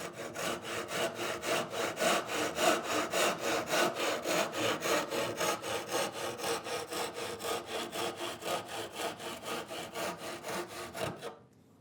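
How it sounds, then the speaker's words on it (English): A tenon saw cuts through wood for a tenoned mitre joint with a steady rhythm of close, even back-and-forth strokes, roughly thirty in a row, ending in a sudden stop. "Drop your tenon saw right into the"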